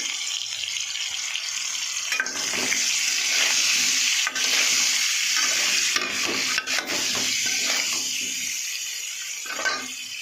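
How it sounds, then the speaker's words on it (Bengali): Pieces of young jackfruit and potato frying in oil, with turmeric and salt, give a loud, continuous close sizzle broken by repeated scrapes and clinks of a spoon stirring the pan, with no talk. "তেলের মধ্যে দিয়ে দিলাম ইঁচড়টা, ভেজে নেবো ভালো করে।"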